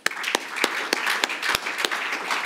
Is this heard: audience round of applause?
yes